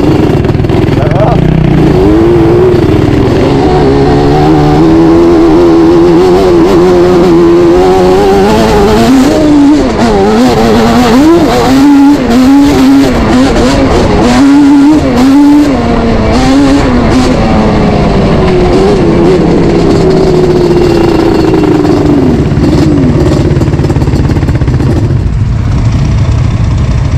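Yamaha YFZ-R quad's engine revs loudly and continuously up close, pitch rising and falling through repeated throttle blips, with people talking over it.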